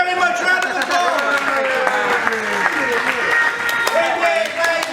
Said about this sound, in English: Thank you very much, round of applause!